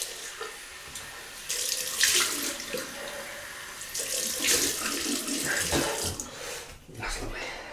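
A bathroom tap runs for a cold water rinse during a wet shave, water splashing and streaming steadily into a sink at close range, with brief murmured talk over it.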